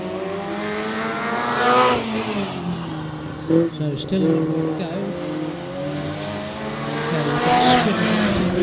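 Race cars at Swaffham Raceway scream by with rising and falling engine tones and brief tire squeal, loud and close, as a commentator talks over them.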